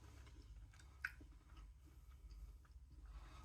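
Someone chews a Paradise Green dried kiwi snack up close with soft, quiet, moist mashing and a couple of faint crunchy bites, and no talking.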